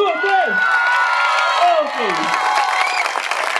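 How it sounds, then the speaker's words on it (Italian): An audience at a dance gala night show breaks into loud applause and cheering, dense clapping with whoops and shouts filling the whole stretch, and a brief spoken word on top. "Facciamo un altro bel applauso, uno, due, tre!"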